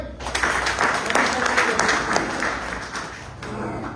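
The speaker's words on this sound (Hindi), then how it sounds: "एक बार तालियां भाई।" A crowd claps continuously throughout at a Swami Ramanandacharya birth-anniversary gathering, dense and fairly loud, easing slightly toward the end.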